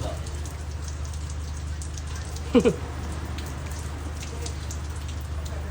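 Heavy rain pours down in Thailand, a dense, constant roar of drops that stays even from start to finish, broken only by a brief double knock near the middle.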